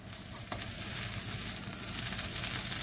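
Leftover scraggy pie fries and crisps in a pan, an even, close crackling sizzle running steadily throughout with no voices.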